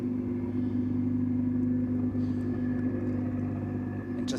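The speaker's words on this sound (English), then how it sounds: "Just hear the sound of the engines idling for the moment" Several Ferrari Challenge race car engines idle together in a low, steady rumble with a constant hum, continuous and fairly distant, with no sharp changes, during qualifying at Spielberg.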